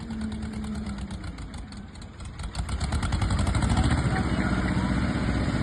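Tractor engine labouring hard while pushing on a farm, with a JCB working nearby, a steady loud diesel drone that swells and strains louder through the second half.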